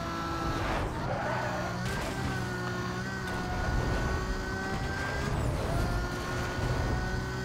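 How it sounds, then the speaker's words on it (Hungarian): Several car engines in Need for Speed Most Wanted roar steadily and loudly, with revs climbing and dipping as they race, continuous throughout. "Búgnak a motorok."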